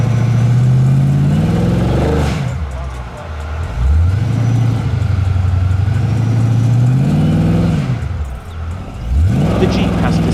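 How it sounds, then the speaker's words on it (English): A Jeep Grand Cherokee SRT drives off-road and skids in a loud, close engine roar, with the revs rising and falling repeatedly as the wheels slip and surge. "The Jeep has to skid a lot to reach the first stopping point."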